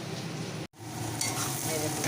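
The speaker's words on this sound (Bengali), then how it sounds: "কষাচ্ছি ভালো করে আলুটা লাল লাল করে ভাজা হবে পেঁয়াজটা লাল লাল করে ভাজা হবে" Potatoes and onions frying in oil with spices give a loud, dense, continuous sizzle with stirring, cut by one brief moment of silence.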